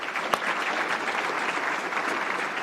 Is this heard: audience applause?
yes